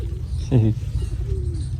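Village pigeons cooing, with a single short low coo heard close by while a person talks over it.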